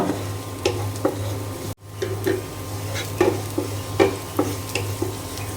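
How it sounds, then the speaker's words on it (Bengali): Panch phoron spices frying with onion and garlic in a pan, a steady close sizzle over a low hum, punctuated by rhythmic scraping strokes of a spatula and a brief dropout midway, with no talking. "এখন পাঁচফোড়ন আর পেঁয়াজ রসুন ভালো করে ভেজে নেব।"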